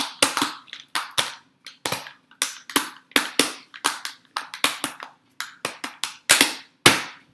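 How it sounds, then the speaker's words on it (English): Plastic pill tray compartments filled with supplements being snapped shut one after another, a rapid, irregular run of about twenty crisp, close clicks with no talking. "So that's how you fill your pill trays. This is the most satisfying sound ever."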